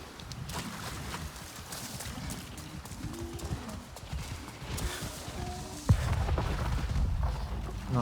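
Horse hooves galloping in the video game Avatar Frontiers of Pandora, a rapid clip-clop rhythm over a dense forest and music bed, with a brief thump near the end.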